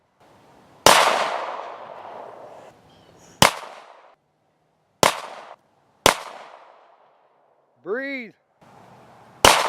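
A 9mm Glock pistol fires at Coke cans at a shooting range: about five sharp, loud shots at irregular intervals, each with a short decaying tail. A brief ringing ping comes near the end, and a single spoken word is heard.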